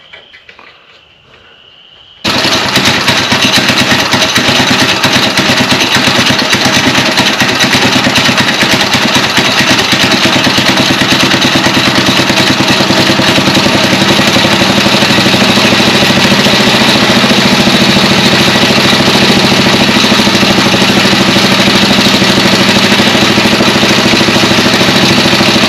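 An old go-kart engine, long unused, starts after a quiet moment and then runs at a loud, steady idle for over twenty seconds, a continuous buzzing drone close by.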